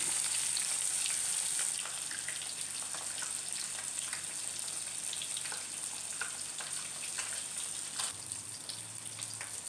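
Pond fish frying in oil in a pan, a continuous crackling sizzle with scattered pops and spits, steady and close throughout, with no voices.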